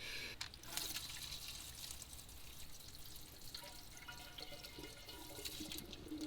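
Water dribbling and dripping from the drain plug of a Corvette ZR1's dry-sump pan, a steady wet trickle with scattered small splashes, close by and fairly quiet.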